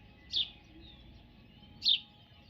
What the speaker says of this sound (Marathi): चिवचिवाड चाललाय